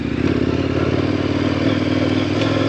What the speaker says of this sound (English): Ooh, perfect skid turn right there.